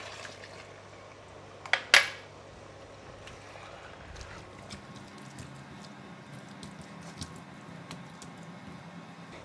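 Half a cup of water splashes briefly into a pot of braising chicken with bitter gourd and salted bean paste, a short wet burst near the start followed by a low steady kitchen hum.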